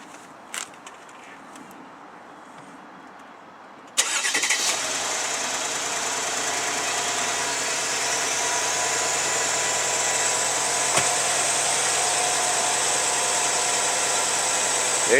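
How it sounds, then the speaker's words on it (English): A Mercedes-Benz S550 (W221) engine cranks and catches after a quiet, near-silent stretch, then settles into a steady, close idle that hums on without speech. "I'm going to start the car right now and see what happens."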